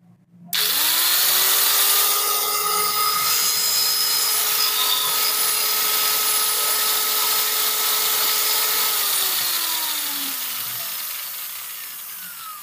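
A Hitachi G10SF5 angle grinder runs steadily after repair on a 20-volt supply, a loud continuous whine starting abruptly and holding level before winding down as it slows near the end, with no talking.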